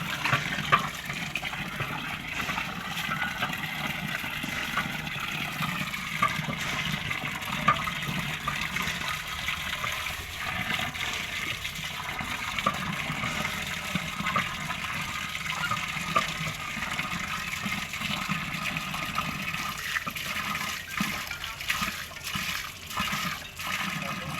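A newly fitted tap at a village house runs water in a steady, moderately loud splashing stream that continues unbroken, with faint background noise and no speech.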